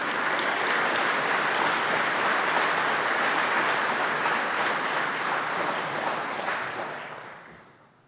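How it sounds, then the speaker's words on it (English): Graduates at a 2021 evening commencement ceremony break into sustained, dense applause filling the hall, steady and loud before fading out over the final seconds, with no talk over it. "please give yourself a round of applause"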